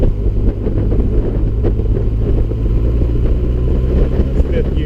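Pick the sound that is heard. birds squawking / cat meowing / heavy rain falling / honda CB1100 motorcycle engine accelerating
honda CB1100 motorcycle engine accelerating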